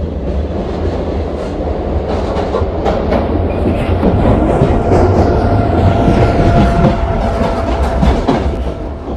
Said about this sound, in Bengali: ট্রেন আমার সামনে থেকে চলে গেল